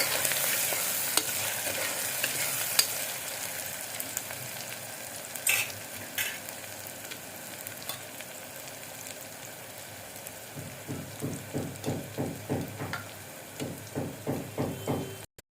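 Green chickpea curry stirred and frying in a pan, a steady crackling sizzle throughout with scraping spoon strokes, then a run of rhythmic, evenly spaced stirring knocks near the end, close and alone.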